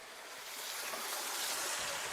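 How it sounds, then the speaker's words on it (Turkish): Water pouring steadily from a waterfall feature at a luxury villa pool, a continuous broadband rush like splashing surf, close and fairly loud with no break and no voices. "Bakın burada da çok güzel bir şelalemiz var. Yine arka tarafa doğru akıyor."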